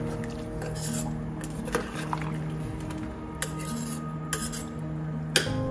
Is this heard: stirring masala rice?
yes